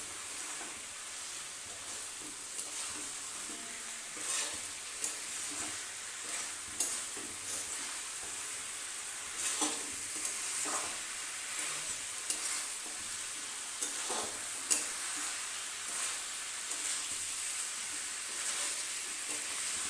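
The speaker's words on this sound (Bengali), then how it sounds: "মশলার সাথে মাংসটাকে ভালো করে কষিয়ে নেব। ততক্ষণ পর্যন্ত কষিয়ে নেব যতক্ষণ না জলটা শুকিয়ে যাচ্ছে।" Chicken sizzles and fries with spices in a pan as the cooking water dries off, a steady hiss throughout with intermittent stirring scrapes and no talking.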